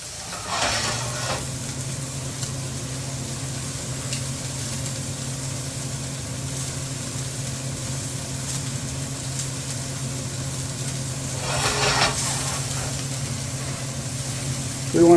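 Steak searing on a hot grill beside a running fan, a steady low whir and hum underneath a soft continuous sizzle, with a couple of brief louder crackles standing out.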